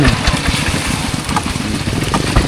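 A walking tractor engine chugs steadily and close on a rural morning road in a Phu Thai village, with a rapid, uneven low thumping throughout.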